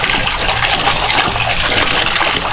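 Water runs steadily from an outdoor faucet fed by a pump motor, a continuous close splashing rush with no breaks.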